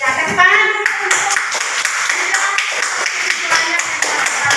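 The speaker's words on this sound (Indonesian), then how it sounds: "tepuk tangan dulu untuk" A classroom of students clapping their hands after a teacher's prompt, a quick patter of close, uneven claps following a brief voice at the start.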